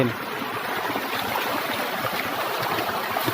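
Water pouring and rushing steadily through a wooden-staked fish trap in a rural stream, a continuous close splashing flow at even loudness with no pauses.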